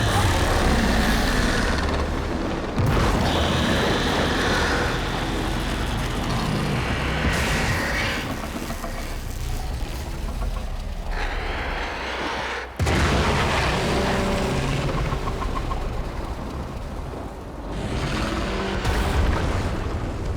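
Explosion in the Warframe Heart of Deimos questline, a sustained loud rumbling blast roar with heavy low-end booms, another sharp burst hitting around the middle and continuing dense, thundering debris noise throughout.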